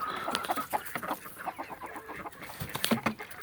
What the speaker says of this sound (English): There's one of our roosters.